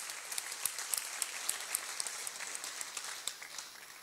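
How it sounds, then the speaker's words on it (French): Scattered applause from a theatre audience at the Sorano for the play's director, fairly quiet and distant, with individual sharp claps standing out over a soft wash of clapping. "Applaudissez-le très fort."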